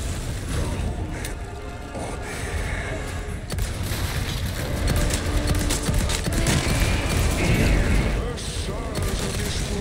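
Rapid bursts of gunfire and heavy booms in the Resident Evil 4 Remake, dense and loud, the shots clustering into a sustained volley with mechanical clatter between.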